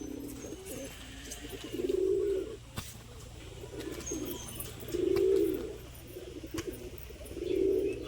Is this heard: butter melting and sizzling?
no